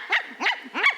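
A person imitates a dog barking, giving three quick yelping barks in an even rhythm, close and fairly loud, with no other sound around them.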